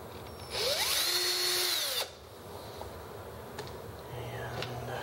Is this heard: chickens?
no